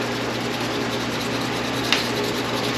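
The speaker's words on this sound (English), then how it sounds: "I'm polishing the rotor arm again." A distributor rotor arm is polished by hand, giving a continuous, even rubbing rasp, close and fairly loud, with one small scrape near the end and no speech.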